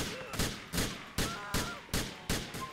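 Repeated video game gunshots fire in a steady rhythm, about two per second, sharp bursts with a hint of voice underneath.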